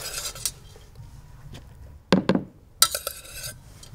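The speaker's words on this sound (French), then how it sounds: "Je viens mélanger tout ça à mon petit tartare de tomates." Cooked quinoa being mixed into a tomato tartare in a bowl, with soft scraping and a few sharp clinks of a spoon against the dish between quieter pauses.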